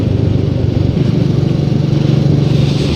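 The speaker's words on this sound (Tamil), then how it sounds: "எக்ஸாஸ்ட் நோட் வந்து ரொம்ப டிஃப்ரெண்ட்டாக இருக்குது இந்த வண்டிக்கு" Royal Enfield Meteor 350 motorcycle exhaust, a steady low, throbbing rumble that holds at an even level for the full stretch, close and fairly loud with no talking.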